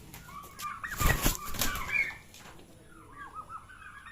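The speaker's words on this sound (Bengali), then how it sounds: "এই হলো আমার মুরগির খামার ফার্ম টার্কি মুরগি" Turkeys and chickens on a poultry farm give a few close, throaty clucks and gobbling calls, a louder burst at first, then scattered quieter calls trailing off.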